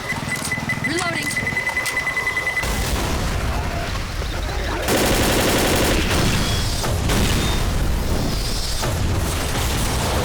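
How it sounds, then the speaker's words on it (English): A grenade blast in Left 4 Dead, a loud broadband boom around the middle followed by heavy gunfire and chaotic combat noise, with players shouting over it. "Grenade!"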